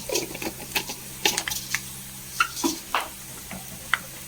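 Fenugreek seeds dropped into hot oil in a home kitchen, giving scattered soft crackles and short pops over a steady low hiss, with no voices.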